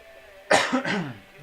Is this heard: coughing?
yes